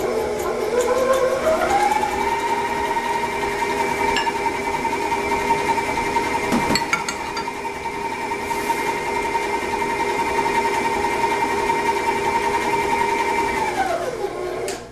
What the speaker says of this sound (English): I'm just going to mix these up until they get thick and blended well.